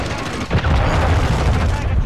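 Cruise missile strike in a Call of Duty multiplayer match, a deep rumbling boom and sustained roar with gunfire, loud and close, under voices talking.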